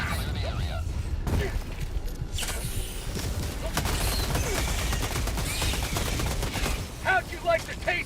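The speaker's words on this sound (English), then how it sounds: "Firing orbital barrage to clear the area." Orbital barrage striking in Helldivers 2, heard as a dense, sustained roar of blasts and rapid fire with crashing impacts, loud and continuous, with faint game voices underneath.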